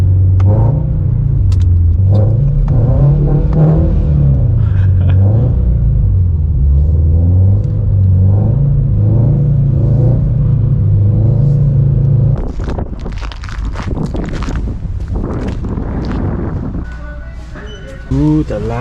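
A Subaru BRZ drives along with a steady low engine drone and road rumble, its pitch rising and falling as it revs, then cutting to rattles and bumps from inside the cabin.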